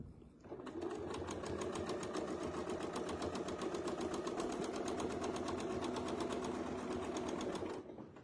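A sewing machine quilting through layers of fabric with thread, a steady rapid mechanical stitching whir that runs evenly for several seconds before stopping.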